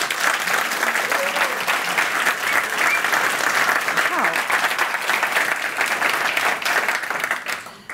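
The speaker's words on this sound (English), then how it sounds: "So can you give me a big applaud?" An audience bursts into loud, sustained applause, a dense wash of many hands clapping that holds for several seconds before tapering off at the end.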